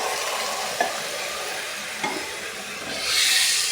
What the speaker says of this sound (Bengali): জল দিয়ে এটাকে কষাবো